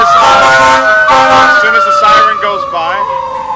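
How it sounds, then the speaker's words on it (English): An emergency vehicle siren sweeps past, loud and close with a slowly falling wail, while people talk over it during an interview. "as soon as the siren goes by"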